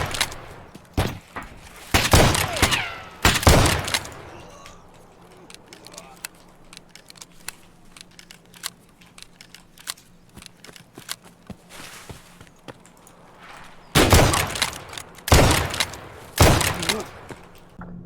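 Buckshot shotgun blasts hit Tier 3 body armor in Escape from Tarkov, a handful of loud, close booms in clusters at the start and end, separated by a quieter stretch with faint footsteps and rustle; a voice talks at times.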